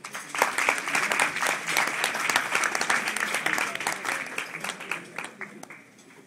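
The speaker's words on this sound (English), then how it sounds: "please join me in offering a round warm of applause" An audience claps steadily to welcome a speaker at a public forum with young Africans, a dense, close round of applause that holds for several seconds and then thins out near the end.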